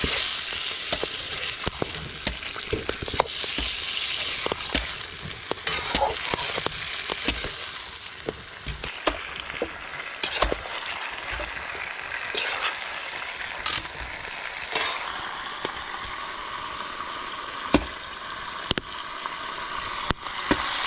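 Bananas for matoke sizzle and crackle steadily in a small hot frying pan, with occasional scraping and clinks of a utensil stirring, close and continuous.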